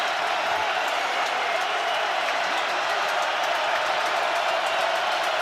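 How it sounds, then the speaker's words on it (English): A football stadium crowd at a Kansas City Chiefs at Baltimore Ravens game roars loud and sustained on a third down, a dense unbroken wall of noise throughout. "Crowd in full throat on a 3rd down and 10."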